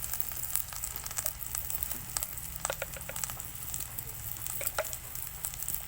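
Spices with turmeric powder fry in a pan, giving a faint, steady sizzle with light crackles and occasional stirring scrapes, and no one speaking.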